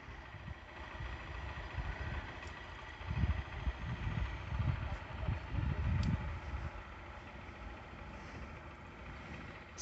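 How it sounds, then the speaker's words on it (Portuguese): A motorcycle on a rural dirt road near a dam in Brejo Santo, Ceará, approaches and passes with a low, rumbling engine drone that swells in the middle and eases off, fairly faint against the outdoor background. "Mais uma moto vai passar."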